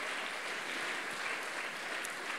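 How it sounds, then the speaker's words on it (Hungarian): Audience applause for solo dancer Zsáki Dániel at a jubilee folk dance performance, a steady, dense wash of many hands clapping at moderate level, continuous with no pauses. "Neki jár egy külön taps"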